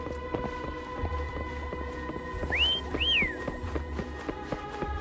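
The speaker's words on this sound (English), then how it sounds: "Try whistling." A character in the video game Wuthering Waves whistles two short rising-falling notes over soft game ambience and light footstep-like taps.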